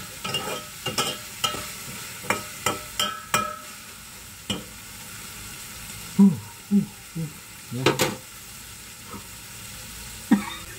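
Chicken frying in a pan is stirred with a utensil, soft sizzling under a string of sharp scraping clinks that come in irregular bursts, heard close and fairly quietly.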